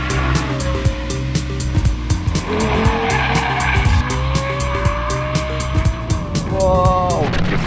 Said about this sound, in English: The way the engine revs, I mean, it just spins it so fast